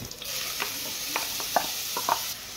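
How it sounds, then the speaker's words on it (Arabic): Grated onion sizzles in vegetable oil in a pot, a soft hiss punctuated by scattered scraping strokes as it is stirred, close and fairly quiet. "حطيت الزيت في الحلة، ودلوقتي هحط البصل، بصلية كبيرة مبشورة"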